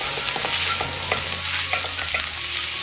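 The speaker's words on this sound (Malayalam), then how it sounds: "പച്ചമണം മാറി കിട്ടുന്നവരെ ഒന്ന് ഇളക്കി കൊടുക്കാം." Ginger and garlic fry in a pan over a medium flame while being stirred. A steady close sizzle runs throughout, with repeated scraping strokes of the spoon and no voices.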